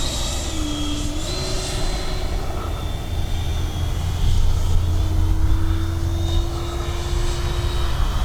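A Taft Valkyrie 90mm RC jet plane makes a low pass, its steady engine whine and rushing roar holding near and fairly loud, swelling briefly mid-pass, with no talk over it.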